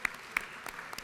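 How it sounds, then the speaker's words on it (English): Scattered applause in the Georgia House chamber at the state capitol during a morning session, a few sharp claps spaced out over a second, fairly faint and thin rather than a full ovation. "If we could give all of our Alzheimer's awareness advocates a round of applause, please."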